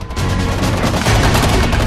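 Dense gunfire during Korean military combat training, rapid overlapping shots and bursts packed tightly together, loud and continuous with no gaps.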